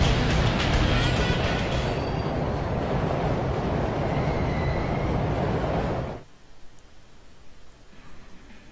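A train in the video game SmackDown! Shut Your Mouth rumbles loudly and steadily, then cuts off abruptly to a quieter background near the end.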